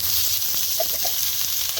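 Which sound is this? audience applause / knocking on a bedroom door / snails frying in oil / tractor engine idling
snails frying in oil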